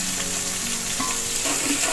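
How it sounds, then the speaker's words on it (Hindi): Garlic frying in oil for Delhi biryani gives a loud, dense, steady sizzle with faint stirring scrapes throughout and no voices. "ये देख रहे हैं मेरा लहसुन होता जा रहा है, ये देखें ये ब्राउन कलर पर होता जा रहा है"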